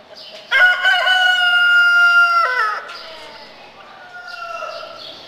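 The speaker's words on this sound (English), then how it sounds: "see if there's a pretty rooster here someplace." A rooster crows loudly and close by on a farm in Amish country, one long cock-a-doodle-doo, with quieter clucking and bird sounds after it.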